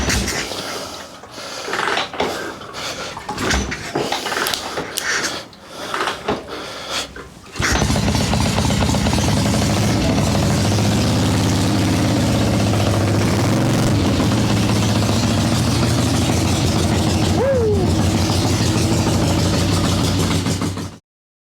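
A Garelli SSXL moped engine starts up and runs steadily, loud and close with a continuous buzzing drone, after some earlier rough, uneven sputtering and choke fiddling.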